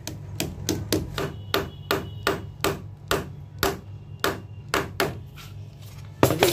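A hammer drives nails through clips into WPC louvre wall panels, producing a steady run of sharp knocks, roughly two per second, near and moderately loud with no speech.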